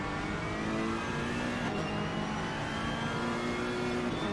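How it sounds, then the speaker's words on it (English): A Ferrari race car in a 12-hour endurance race at Bathurst drones with a steady, loud engine note, its exhaust popping from unburnt fuel faint and hard to pick out. "You can hear the popping of the fuel going into the exhaust."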